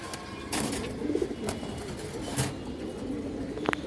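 Green-necked pigeon pair, a male and female, giving low cooing calls close by amid a few sharp knocks and rustles, with no talking.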